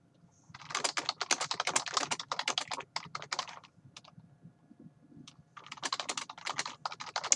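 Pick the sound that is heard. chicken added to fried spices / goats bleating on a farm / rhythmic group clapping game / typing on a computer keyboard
typing on a computer keyboard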